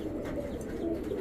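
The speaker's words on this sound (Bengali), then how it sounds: "এই হচ্ছে রাজশাহী গিরিবাজ একটা জোড়া" A Rajshahi Giribaz pigeon gives a soft, low coo, one brief murmuring call, fairly faint and close, with no talk.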